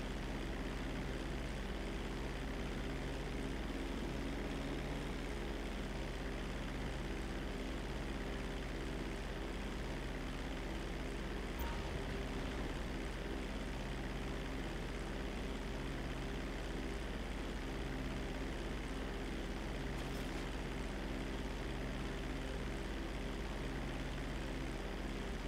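Propeller plane flying in GTA 5, a steady drone of engine and airscrew holding level and continuous throughout with no voices.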